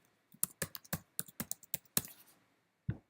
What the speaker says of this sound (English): And now maybe you type in a title here